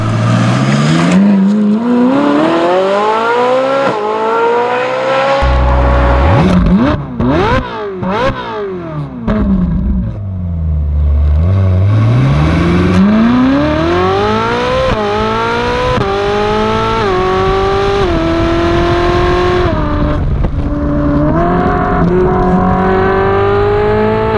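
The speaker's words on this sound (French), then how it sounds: "c'est les trois échappements qui envoient le son" A Ferrari 458 Italia engine revs hard several times, its triple exhaust roaring and crackling up and down in pitch, loud and close with no talking.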